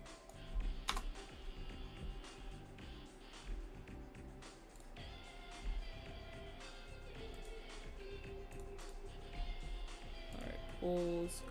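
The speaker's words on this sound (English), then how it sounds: "I'm like aggressively typing" Aggressive typing on a computer keyboard, rapid uneven clatter of keystrokes close to the microphone, continuing for several seconds under quiet speech.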